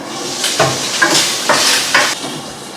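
Shrimp fry in a pan, a steady close sizzle broken by four short, brighter bursts of stirring about half a second apart.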